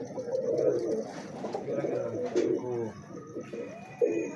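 Pigeons cooing close by, a series of low throaty coos rising and falling in quick succession, with faint background noise.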